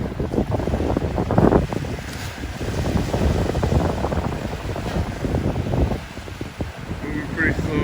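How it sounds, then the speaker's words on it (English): Strong wind of around 30 mph blows across a rough bay at Mobile, Alabama, ahead of Hurricane Sally. Loud gusts buffet the microphone over the constant wash of waves rolling in. "There's probably a good 30-mile-an-hour wind, constant, kind of blowing the waves in."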